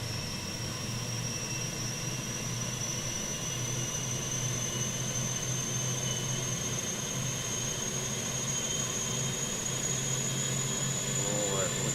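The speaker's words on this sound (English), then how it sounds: "APU spooling up." Auxiliary power unit of a Fenix A320 airliner spooling up in Microsoft Flight Simulator, a steady loud turbine roar with a slowly rising high whine, continuous with some talk mixed in.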